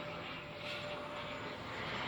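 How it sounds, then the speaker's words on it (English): Distant airplane passing overhead, a steady, faint broadband roar that fills the whole stretch without change, heard alone with no talking. "I don't know if you can hear the loud airplane"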